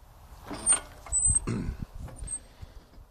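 The cutting deck of a Stiga Park Pro 18 ride-on mower moves as its height is adjusted, a close, quiet run of mechanical whirring, creaks and ratcheting clicks with a few faint high squeaks.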